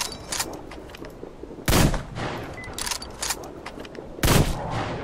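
Gunfire bursts from the video game Metro Exodus, two heavy, loud blasts standing out among lighter shots and game noise, with no voice over them.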